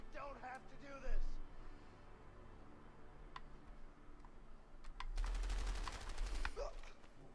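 Gunfire in the video game A Way Out, a rapid burst of shots near the end preceded by a louder single crack and scattered clicks, with voices talking amid the shooting.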